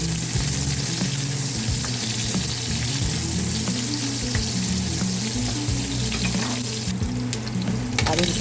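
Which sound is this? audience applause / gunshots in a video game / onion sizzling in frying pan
onion sizzling in frying pan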